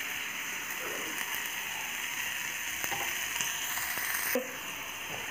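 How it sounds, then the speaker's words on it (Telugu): Sliced onion and green chillies fry in hot oil with cumin seeds in a pan, a steady close sizzle throughout, with occasional scraping clicks from stirring. "ఉల్లిపాయ వేగుతుంది"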